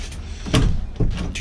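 A door in an abandoned shuttlecock factory is tried, two sharp rattling clunks of the handle and frame about half a second apart, close and fairly loud against a quiet room.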